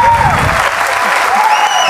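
A studio audience on a Turkish quiz show claps, a steady, loud wall of applause filling the whole short stretch with no break.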